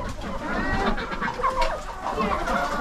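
Chickens cluck steadily inside a snowy backyard coop, close and moderately loud, with overlapping short calls throughout.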